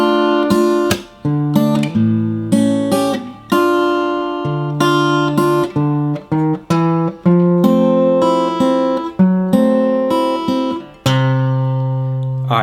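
Acoustic guitar plays the second line of a blues tune, strummed and picked chords with bass notes moving through a dozen seconds, close and clear with no talking.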